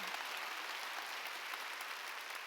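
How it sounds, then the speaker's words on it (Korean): A church congregation applauding during a Wednesday worship service, a faint but continuous patter of many hands clapping, steady and even across the whole stretch. "박수"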